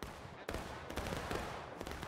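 Musket volley in the Civil War game War of Rights, a dense burst of overlapping shots with sharp onsets near 0.5 and 1.8 seconds, loud and crackling, with scattered fire in between.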